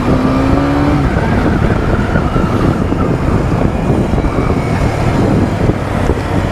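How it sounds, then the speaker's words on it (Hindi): A sport motorbike starts off in first gear and revs hard into a wheelie, its engine roaring loud and close in a continuous, rising drone. "ये जब भी है ना फर्स्ट गियर में बाइक को स्टार्ट करते हैं ना तो ये व्हीली ज़रूर मारते हैं"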